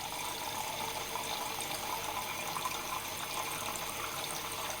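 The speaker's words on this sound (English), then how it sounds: "I'm going to fill this with water now." Tap water runs steadily into a 600 W Quest travel kettle for about five seconds, making a continuous, fairly loud hiss and splash with no talking.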